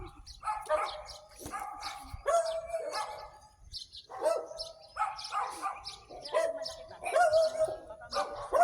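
Dog barks in repeated bursts with some chirping birds, heard outdoors while walking inside a residential subdivision near an open gate; moderately close, no talk.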